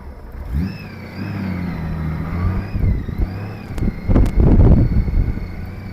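A 2016 Honda GL1800 Goldwing motorcycle engine idles smoothly, then revs up loudly and pulls away in first gear, its rumble growing louder toward the end.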